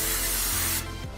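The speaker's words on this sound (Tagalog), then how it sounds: "Sprayan muna natin ng oil itong ano natin." Cooking oil is sprayed onto a baking tray in a short, loud, close hiss that cuts off partway through, followed by a quieter tail, with no speech.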